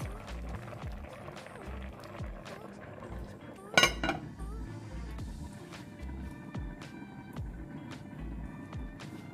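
A lid set onto a pot of Jamaican stew peas with pigtail, a single bright metallic clank standing out over a low kitchen bed with scattered small knocks and clinks.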